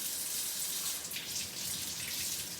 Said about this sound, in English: So now I'm gonna go wash my nitrile gloves.